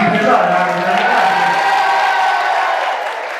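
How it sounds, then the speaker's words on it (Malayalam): Audience at a Mar Thoma parish church Christmas celebration applauding the children, a dense, loud wash of clapping with some cheering that holds steady for a few seconds, then eases slightly at the end. "ഇവരെ ഒരു കൈയടിച്ച്"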